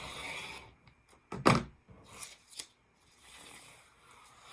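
Scissors make a couple of close, crisp snips through quilting fabric as squares are cut into large diamonds for fat quarters. One louder cut is followed by lighter ones, with quiet gaps between them.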